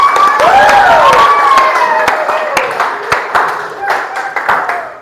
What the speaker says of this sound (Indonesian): Mari tepuk tangan sekali lagi, Nak.